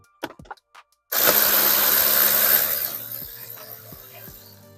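A power driver spins off 7mm fasteners on a 2015 Silverado during cabin air filter work: a few quiet clicks, then a loud whirring buzz that fades into lighter ratcheting ticks.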